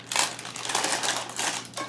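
Baking paper crinkling and crunching near the mic as freshly baked Irish barmbrack fruit bread is pulled from its pan, in several crisp bursts with short pauses.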